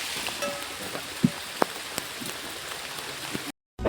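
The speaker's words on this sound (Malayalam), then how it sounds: "കോരിച്ചൊരിയുന്ന മഴ." Heavy rain pours onto a fishing boat out on the water as a quiet, steady patter with a few sharper drop hits, then cuts to brief silence near the end.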